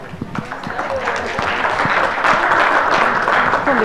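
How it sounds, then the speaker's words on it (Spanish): A conference audience claps in sustained applause, dense and steady, growing slightly louder toward the end. "La vamos a recibir con un aplauso"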